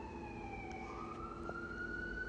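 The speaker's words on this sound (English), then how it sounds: "I'm kind of a little distracted by the sirens in the back" Emergency vehicle siren wails in the distance, a faint rising and falling tone drifting over a low background hum, with no voices.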